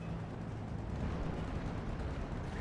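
Rheinwerfer rocket launcher firing in a World War II strategy game, a dense continuous rumbling roar of rocket fire and blasts, heavy and steady throughout.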